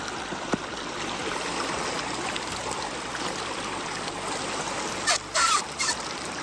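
Continuous trickling and splashing of water leaking steadily through a water filter bag, fairly close, with a few brief louder bursts near the end.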